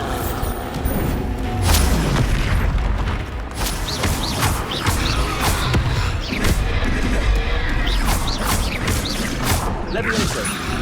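Bombarda explosion spell cast in Hogwarts Legacy combat, dense bursts and booming crashes with clattering effects amid constant battle noise, loud and busy, with a voice shouting spell names over it.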